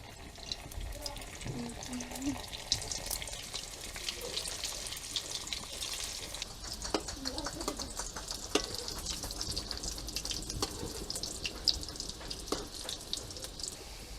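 Crispy potato rolls deep frying in a wok of hot oil, a continuous close sizzle and bubbling with scattered sharp pops and utensil taps.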